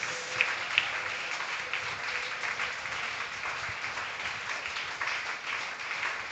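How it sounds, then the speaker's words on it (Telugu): A church congregation claps hands together during Sunday worship, a steady dense patter of applause with a couple of sharper individual claps near the start and no talk over it. "చప్పట్లు కొడుతూ స్వస్థత పొందుకోండి."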